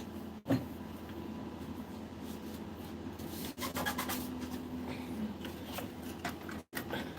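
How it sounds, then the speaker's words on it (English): Sandpaper rubbed by hand over a cracked seam on a custom farm toy, a steady quiet rasping scrape running through most of the stretch with a couple of brief knocks, no talking. "I see a crack in my seam. I'm going to try to sand that down."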